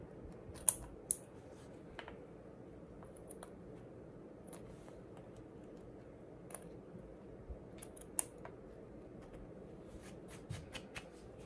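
Scissors snipping through fabric while cutting out applique letters for an heirloom quilted blanket: sparse, quiet clicks and snips scattered over a low steady background hum, with no talking.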